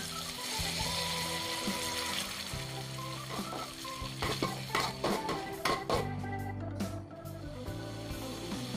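Lime leaves and sliced chili frying in a pan for tempeh orek, water poured in to set off a steady hiss, with clattering stirs and utensil knocks against the pan, close by.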